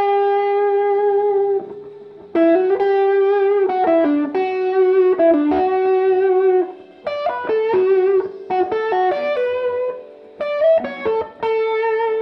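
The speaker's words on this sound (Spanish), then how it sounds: "si uno se pasa de revoluciones con el nivel de distorsión," Electric guitar played through a Roland heavily distorted effect, sustained overdriven notes and short melodic phrases ringing loud and close with brief gaps between lines.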